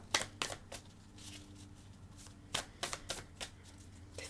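Tarot cards are handled and drawn from a deck, giving soft, close shuffling flicks and snaps that come in quick irregular clusters over a quiet room.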